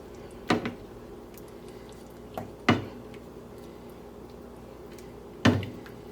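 A spoon stirs freshly ground black pepper into a pot of shepherd's pie filling, making three soft, separate knocks against the pot a couple of seconds apart over a quiet background.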